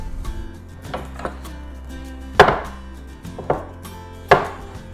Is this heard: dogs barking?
no